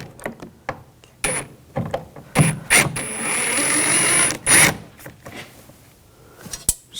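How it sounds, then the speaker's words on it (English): A T20 socket backs screws out of a 2000-2006 BMW X5 front door panel during window regulator replacement, giving close, intermittent ratcheting clicks and mechanical rattles with short pauses between turns. "I'm going to take these screws out, use a T20 socket"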